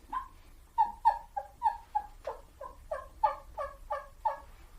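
A turkey call played softly gives a run of about a dozen throaty yelps and clucks in a steady rhythm, close and clear over a low background hum.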